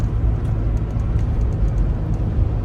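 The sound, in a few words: Porsche 944 engine running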